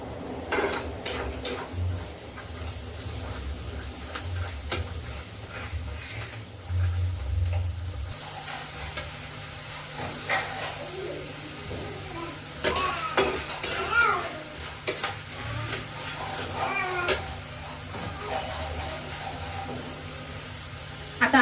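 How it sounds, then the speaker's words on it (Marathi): Peanuts and chana dal roasting in a tempering for South Indian poriyal until reddish, a steady sizzle with scraping stirs and occasional clinks of a spoon against the pan, close and moderately loud. "हे सर्व आपल्याला लालसर होईपर्यंत परतून घ्यायचं आहे"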